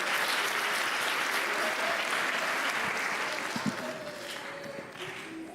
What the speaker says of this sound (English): Please give Kay a big clap.